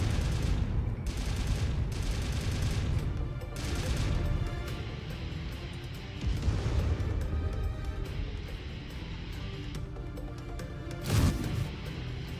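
A medium rifle on a MechWarrior 5: Mercenaries battle mech fires in spaced, heavy booming shots with rumbling tails, separated by quieter gaps, and a sharper crack lands near the end.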